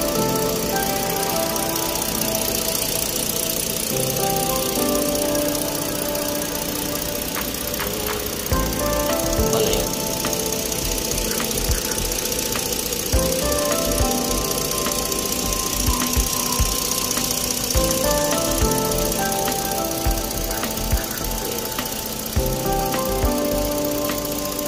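A 2012 Ford Taurus engine idles after a water pump replacement, a steady, close mechanical hum and whir with a continuous rattle and occasional clanks and taps layered on top throughout.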